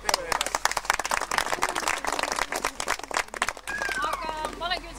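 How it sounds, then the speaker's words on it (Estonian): A crowd at an Estonian Land Rover Club autumn off-road driveout applauds the drivers, dense rapid clapping throughout, with a voice speaking over it and whistling near the end. "tahaks suure aplausi teha teile"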